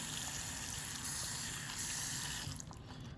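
Water is poured into a rock tumbler barrel holding rose quartz, giving a steady, soft wash of running liquid that continues without a break and fades slightly near the end.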